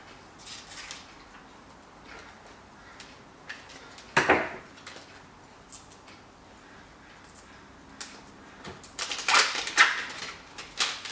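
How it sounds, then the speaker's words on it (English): A foil-sealed, pressure-sealed package holding a night guard is handled and torn open nearby. Quiet crinkles and clicks build to two sharp bursts of foil rustling, one near the middle and one near the end. "I'll open up one right now. These are foil sealed, tie pressure sealed."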